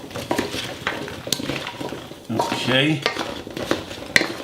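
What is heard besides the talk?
mixing salt-free meal in a dish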